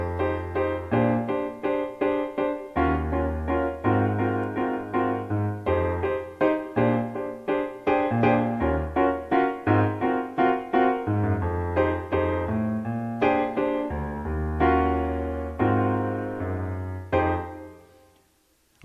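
Solo piano plays a jazzy groove, with steady low bass notes under rhythmic chords that are loud and close, continuing for the whole passage before a final sustained chord fades out.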